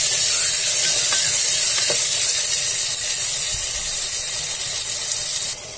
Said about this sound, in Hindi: अब इसे हम गोल्डन ब्राउन होने तक भून लेंगे